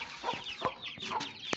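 Hens clucking in a hot, dirty coop in need of cleaning, several short close clucks and squawks scattered through the moment with no talking.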